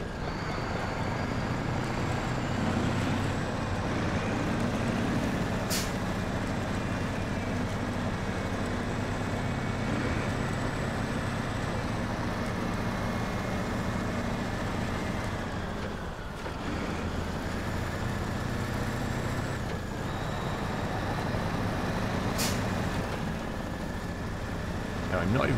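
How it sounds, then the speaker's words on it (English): The Pacific P16 tractor truck in SnowRunner drones with a steady, low-pitched engine rumble, loud and constant with little change, backed by a windy, rushing wash and a brief dip partway through. "It's a big old tractor truck, innit?"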